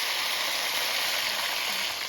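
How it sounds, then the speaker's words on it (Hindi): Chicken pieces frying in hot oil for an Afghani chicken curry, a loud, dense, continuous sizzle held steady and close with no talking. "अभी तेल अच्छे से गर्म हो गया है, इसमें हम थोड़ा सा फ्राई कर लेंगे ये जो चिकन है"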